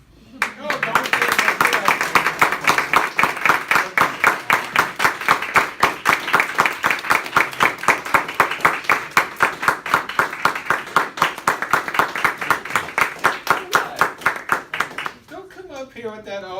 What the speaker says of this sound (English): Applaud again for Robbie White